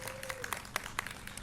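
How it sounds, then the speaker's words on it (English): A library expansion and renovation gathering breaks into applause for a council member, a faint, brief patter of scattered claps from a small indoor crowd. "Round of applause for Bill Hollander."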